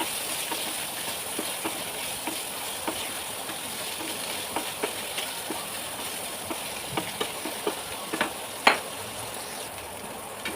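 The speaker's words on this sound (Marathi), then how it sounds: "सर्व पनीरचे पीसेस मी तेलावरती मारून घेणार आहे" Paneer pieces shallow frying in hot oil, a steady close sizzle with scattered small pops and crackles, loudest near the end, no talk.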